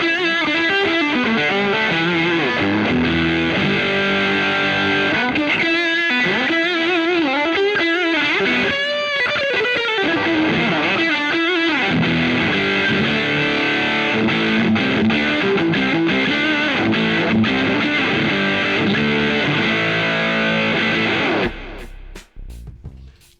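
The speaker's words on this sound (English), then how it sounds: "anything from a nice, smooth, creamy overdrive to just full on raging, rampaging distortion" An electric guitar played through a Boss overdrive or distortion pedal gives loud, thick, saturated chords and riffs that ring continuously for over twenty seconds before cutting off abruptly.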